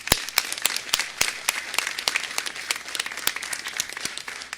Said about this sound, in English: we need to give a big round of applause to the governor and the First Lady